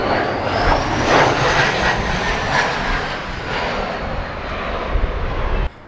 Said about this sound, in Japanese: あ、飛行機来た。